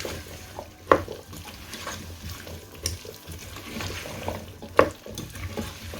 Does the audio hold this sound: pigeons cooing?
no